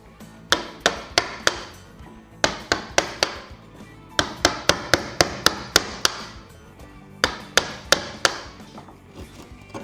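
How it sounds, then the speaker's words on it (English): A Bahco wood chisel hacks chunks off a piece of timber in a workshop, sharp close-up thwacks landing in quick bursts of four to six blows separated by short pauses. "Now normally you wouldn't hack so much off with a chisel"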